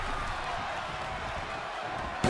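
Wrestling crowd in WWE 2K23 roars in a steady, dense wall of cheering at a tag-team match, continuous and loud throughout with no individual voices standing out.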